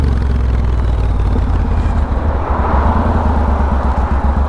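An old motorcycle rumbles past close by, a loud, steady engine drone with a deep throbbing low end and a slight swell midway, heard on its own without talk.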